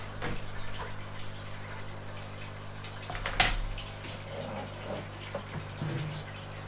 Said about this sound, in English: now we're going to go ahead and move on to doing a small water change on King Leon's tank.